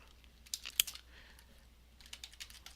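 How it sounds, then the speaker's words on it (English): Quiet keystrokes on a computer keyboard as a question is typed, with a short cluster of taps, a pause, then another burst of light, rapid clicks. "let's go ahead and type a question"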